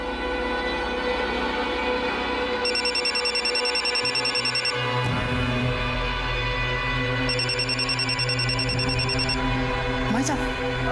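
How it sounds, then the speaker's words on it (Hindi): A phone ringtone chirps in two repeated bursts over a busy, humming background, fairly loud and close. "भाभी का फोन बज रहा है"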